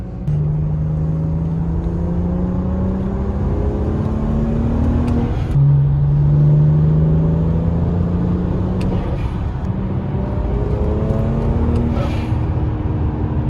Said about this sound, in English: We got the BMW back on the road. Gonna take it for a spin, show you guys it's working well.